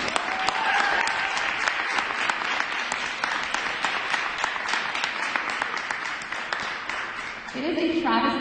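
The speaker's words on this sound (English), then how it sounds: "if we can all give a round of applause for ourselves" Crowd at a press conference breaking into sustained applause, dense steady clapping that carries on for several seconds before tapering, with voices faintly mixed in near the end.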